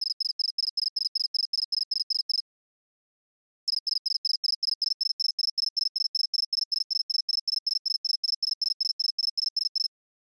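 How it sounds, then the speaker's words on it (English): A synthesized mole cricket chirp with a steep bandpass filter for its main resonance sounds as a rapid, evenly pulsed, high-pitched trill. One short burst is followed by a pause, then a longer run of identical clean, tonal pulses against total silence. "This mole cricket example contains a similar cluster to an earlier example, but also has a steep bandpass filter applied for a main resonance."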